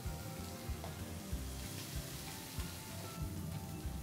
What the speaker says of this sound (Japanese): 最初強火でお肉を入れたらあまり構わない